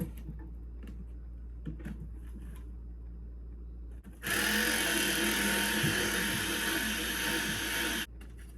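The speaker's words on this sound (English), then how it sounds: "drill a little hole right here so that I can slip it on to this threaded rod" A power drill whirs loudly and steadily for about four seconds after a quiet stretch, drilling a small hole in a manzanita log, then cuts off abruptly.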